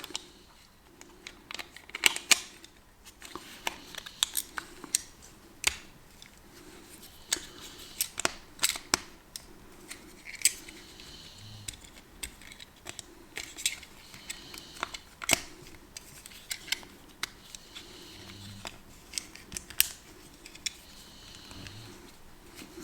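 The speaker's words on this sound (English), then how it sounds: "gently push it up until you hear it click into place." A plastic cover being pushed onto a Polestar 2 car key, a series of sharp close clicks and small plastic snaps scattered among faint handling rustle, with no talking.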